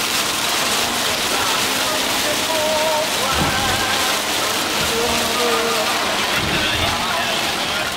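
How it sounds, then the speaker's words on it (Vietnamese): Heavy rain pours steadily on a mountain road on the way to Sapa, a dense, loud hiss that fills the whole stretch, with faint engine and passing-vehicle sounds underneath and occasional thumps. "Vâng, rất là mưa các bạn ạ."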